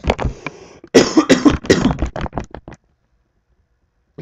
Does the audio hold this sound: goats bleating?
no